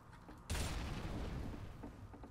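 A gunshot in Counter-Strike: Global Offensive during a matchmaking game, one sharp loud blast whose rumbling tail fades over about two seconds, with no voices.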